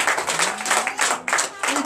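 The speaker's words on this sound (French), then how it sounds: "Donnez l'acclamation à Jésus." Congregation applauding during a night church service, a short burst of brisk clapping with voices calling out over it.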